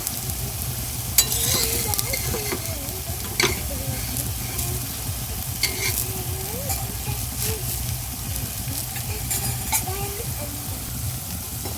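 Food sizzling loudly in a hot pan as pieces are turned over, with scrapes and clinks of a utensil breaking through the steady frying while a voice talks in the background.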